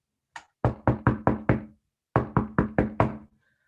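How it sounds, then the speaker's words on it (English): Knocking on a door in two quick bursts of about five sharp raps each, loud, close and dry, with a short pause between the sets and no talk. "Another knock."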